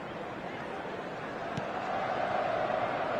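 A steady stadium crowd roar from an eFootball match fills the scene as a broad, continuous wash of noise that swells slightly louder toward the end, with no clear individual voices.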